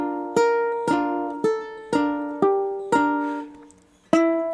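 A ukulele plucks a Jingle Bells melody, seven clear ringing notes at an even pace, each attack bright and decaying before the next, played alone up close.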